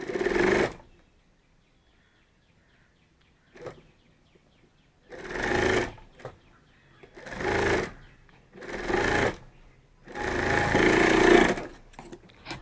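A sewing machine attaches a pocket to a handmade cloth bag in several bursts of rapid stitching with pauses between them. One short faint knock falls in a quiet stretch, and the machine sounds close, with no talking.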